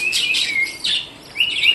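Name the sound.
lutino budgerigars chirping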